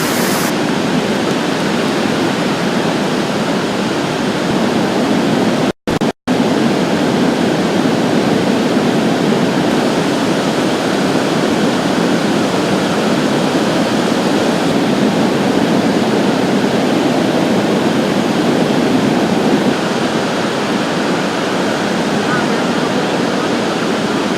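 Loud, constant rushing floodwater in a drainage ditch roars without a break during the 2013 Colorado flood, a dense wash of turbulent flow close by, with only a momentary dropout.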